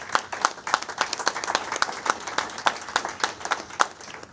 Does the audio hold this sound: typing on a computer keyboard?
no